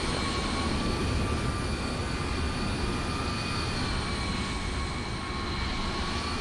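Airliner jet engines of a Kenya Airways Boeing 787-8 in Microsoft Flight Simulator drone in a steady, even roar with a faint high whine, constant and moderately loud with no voices.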